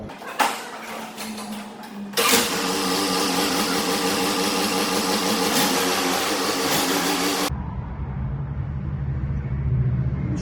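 An Orion JD 504 tractor engine idles steadily at close range, a low continuous rumble that drops to a deeper, rougher chug partway through.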